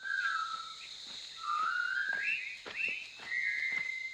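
Whistled melody of the Colonel Bogey March, several voices in unison gliding between sustained notes, steady and fairly close, with no talking.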